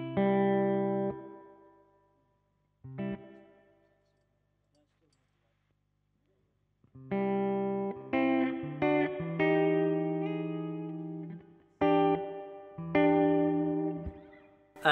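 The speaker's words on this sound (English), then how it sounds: "It's got your standard spring reverb, hall reverb, plate reverb that you would expect in a multi-effect reverb pedal" Electric guitar through a Boss RV-6 reverb pedal: chords ring out with long reverberant tails, a pause, then a series of sustained strummed chords washed in lush reverb.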